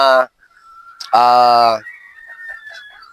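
Boston Roundhead gamefowl pullets in a pen on a game farm give loud, close, harsh calls: a short cry, then a longer drawn-out one, followed by softer chirping and clucks.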